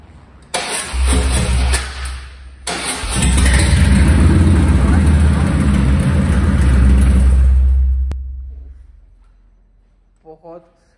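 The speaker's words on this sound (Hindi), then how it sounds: "बहुत हैवी साउंड है इसका।" A Harley-Davidson motorcycle engine cranks, catches and revs in loud, heavy bursts, holding a deep roar for several seconds before cutting out, with a voice speaking briefly afterward.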